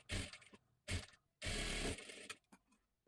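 A sewing machine runs a double line of stitching on the collar of a princess blouse. It comes in three whirring bursts of mechanical rattling, the longest lasting about half a second, with short clicks and quiet gaps between them.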